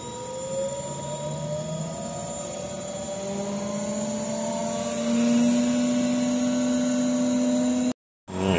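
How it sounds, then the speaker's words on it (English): A laboratory centrifuge spins at 15,000 RPM, giving a steady, loud mechanical whine with tones rising as it speeds up, holding alone throughout before a brief cutout near the end. "And so we're just gonna spin it down in there in the centrifuge."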